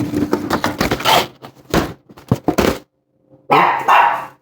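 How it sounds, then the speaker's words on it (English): A dog barks several times indoors in a kitchen, close and loud, in sharp uneven bursts with short pauses, then one last bark after a brief silence. "That's a reason to bark."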